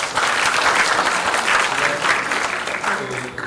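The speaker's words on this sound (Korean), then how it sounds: "박수 한번 부탁드리겠습니다." A seated audience at a Korean policy discussion on child care evaluation claps together, a dense, steady wash of applause filling the whole stretch at close range.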